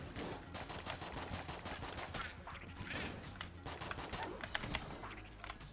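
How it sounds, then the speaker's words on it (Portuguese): Rapid gunfire in the bullet-hell video game Enter the Gungeon, a dense continuous stream of clicky shots and impacts lasting the whole stretch at steady loudness, with no talk. "Meu Jesus Cristo. Quanto tiro?"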